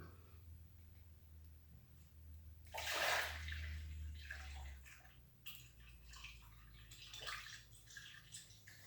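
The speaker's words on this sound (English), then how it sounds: "It's bubbling up a little bit" Wheat beer fizzes and bubbles up with a soft splashing burst as passion fruit is added, then settles into a quieter hiss with occasional small splatters, close by.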